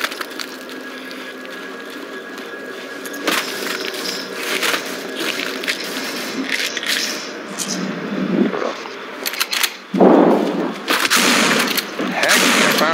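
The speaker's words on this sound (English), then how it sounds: "There goes that gun that shoots a lot of zombies" Bursts of rapid gunfire from a zombie-shooting gun in the video game No More Room in Hell, loud and cracking over a busy game soundscape, with a heavier volley near the end.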